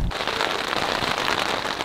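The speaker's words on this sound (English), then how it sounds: "It's currently raining pretty good" Steady heavy rain drums on a backpacking tent in the Colorado mountains, a dense, continuous close-up patter with no voices.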